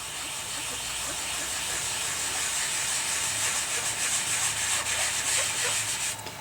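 Ink is rubbed onto paper in a circular motion over an embossed greeting card, producing a steady, close, soft hissing and scrubbing texture that continues throughout with no talking.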